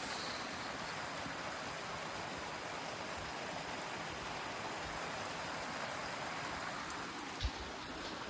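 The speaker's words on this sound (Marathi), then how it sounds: "चार पाच दिवसापासून नुसता पाऊसच पडतो" Heavy monsoon rain pours steadily outdoors, a dense, even roar of drops on surfaces with no pauses, close and loud, with one brief knock near the end.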